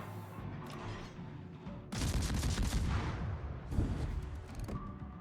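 Naval gun salvos in World of Warships, heavy booming gunfire that erupts loudly about two seconds in and rolls on with layered blasts and rumble over a steady background hum.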